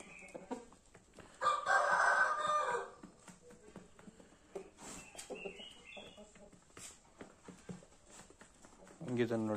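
A young fighter rooster, under a year old, crows loudly and close by in a rural yard, one long crow followed by clucking and other bird calls while a person talks nearby.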